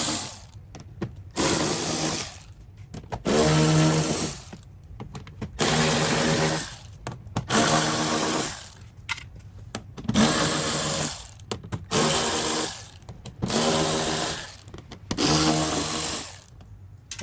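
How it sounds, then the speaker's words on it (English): An electric ratchet zips out 10mm bolts from an interior panel of a third-generation 4Runner, seven or eight short whirring bursts of about a second each separated by brief quiet gaps, close and clear. "he's gonna grab the electric ratchet and he's gonna start zipping out those 10mm bolts"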